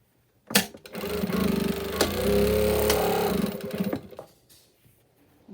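A sewing machine runs in one steady burst of about three seconds while stitching a fabric face mask, with a clack at the start, a whirring buzz throughout and faint handling noises afterward.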